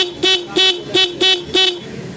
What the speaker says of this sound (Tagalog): Okay, so ayan yung stock horn natin.